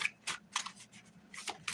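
A deck of cards being shuffled, giving a few quick soft riffling bursts in an irregular rhythm, close and quiet, with no talking.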